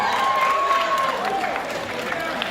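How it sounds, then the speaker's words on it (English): Applause at a high school band banquet, a steady patter of many hands clapping indoors under a sustained tone, with some cheering mixed in. "please hold your applause until the very last person"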